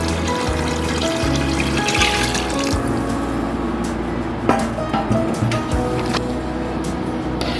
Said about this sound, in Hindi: मैंने इसमें पानी डाल दिया और बकिया का भी पानी डाल देंगे